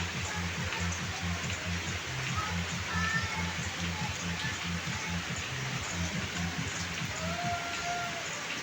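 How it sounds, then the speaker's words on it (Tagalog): Steady rain falling in the Bicol region, a soft continuous patter with a low rhythmic thumping underneath and faint distant sounds, fairly quiet and even throughout. "Maulan na,"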